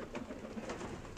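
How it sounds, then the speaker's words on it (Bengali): Pigeons in a small loft cooing softly, faint low murmuring calls repeating over a quiet background. "এই কবুতরগুলো বসে আছে, খাওয়া দাওয়া করে বসে আছে।"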